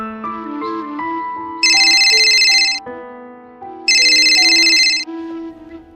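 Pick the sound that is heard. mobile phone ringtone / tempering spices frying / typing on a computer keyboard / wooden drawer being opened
mobile phone ringtone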